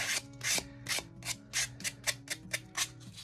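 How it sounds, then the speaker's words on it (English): Sandpaper rubbed by hand along the wooden edges of a gryphon desk during finish prep: about a dozen quick, close, rasping strokes in an uneven rhythm, quiet and alone. "I'll take some sandpaper with my hand and just kind of tidy up the edges"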